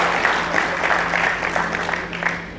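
Applause from an audience at a Telangana film festival, a steady mid-level wash of clapping with a low hum underneath, lasting a couple of seconds without a break.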